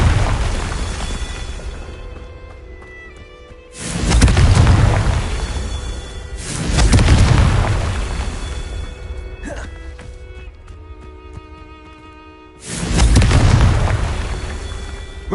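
Three heavy fiery blasts of the Confringo explosive spell in Hogwarts Legacy boom out, each a loud, rumbling burst that decays slowly, spaced several seconds apart over a quieter game backdrop.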